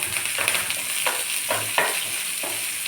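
Onions fry in a pan with a dense, steady sizzle, and a few short bursts of stirring scrape through it.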